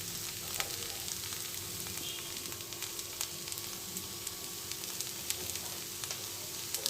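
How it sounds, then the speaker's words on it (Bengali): Ground cumin, turmeric and coriander sizzle steadily in a pan while being stirred for a soya chunk roast, a continuous close crackle with faint scraping clicks throughout. "তো এগুলো একটু নাড়বো 1 মিনিট মতো।"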